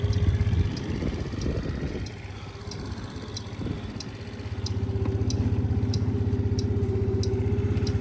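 A Suzuki Address V50 G fuel-injected four-stroke 50cc scooter engine idles close by with a steady low hum, dipping briefly and then settling into an even, continuous drone with a faint regular ticking above it.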